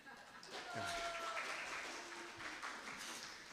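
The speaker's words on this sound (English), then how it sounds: "That was your cue to applaud." Audience at an evening storytelling event breaks into soft, continuous clapping that rises quickly and then tapers off, with some murmuring voices mixed in.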